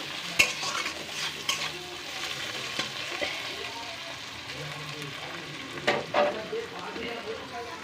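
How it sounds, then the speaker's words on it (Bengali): Chopped tomato fries lightly in a pan, a low steady sizzle under repeated scraping and clattering of a spatula stirring, with a few sharper knocks against the pan. "টমেটোটা হালকা করে একটু ভেজে নেব"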